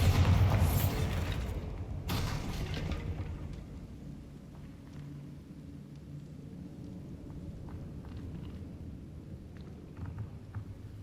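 A Bombarda blasting spell explodes in Hogwarts Legacy with a loud, deep boom, a second blast following about two seconds later, then a long rumbling decay fading into quiet ambience.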